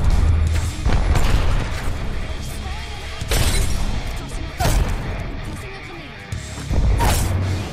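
Grenades burst repeatedly during an Apex Legends match, several booming blasts with shattering debris layered over continuous gunfire and game noise, loud and close.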